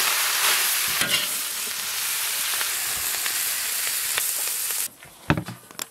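Cumin meat slices being stir-fried in a wok with laver sauce, pepper, salt and chicken powder, giving a loud continuous hissing sizzle that drops away sharply near the end, followed by a few clattering knocks.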